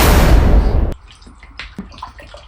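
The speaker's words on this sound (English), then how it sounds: "First we have to put it in water." Water poured loudly for about a second to soak a clay dig kit, a dense rushing splash that stops abruptly, followed by a few faint drips and small knocks, close up with no talk.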